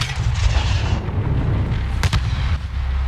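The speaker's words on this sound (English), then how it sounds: "Fire in the hole!" A heavy grenade explosion in Call of Duty Modern Warfare during an embassy firefight at night, a loud sustained boom with rumbling debris and a sharp crack near the two-second mark, no speech over it.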